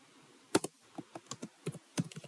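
Quick, quiet keystrokes on a computer keyboard while typing Python code, a dozen or so crisp clicks in an uneven rhythm, close up with no talking.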